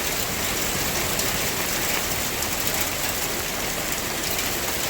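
Heavy hail, from pea to marble size, pours down in Dallas as a dense, unbroken roar of countless impacts at constant loudness, with no voices.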